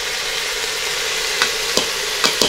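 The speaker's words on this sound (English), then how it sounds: "Stir that around a bit." Drained sticky rice stir-fried in a pot makes a loud continuous sizzle, with a few spoon scrapes and knocks toward the end.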